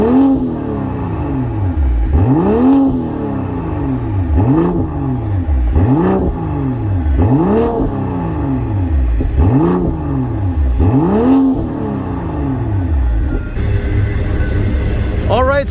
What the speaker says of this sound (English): that was a little exhaust test in Sport Plus